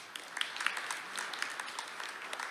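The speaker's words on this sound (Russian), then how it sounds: "Аплодисменты, друзья." Applause from a conference audience at a public dialogue event, a moderate, steady patter of clapping throughout, slightly distant and without talk.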